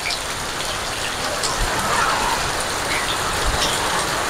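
Steady rain falls outdoors in cold, wet weather, a dense, even hiss of drops pattering on surfaces that stays close and continuous throughout, with no voices.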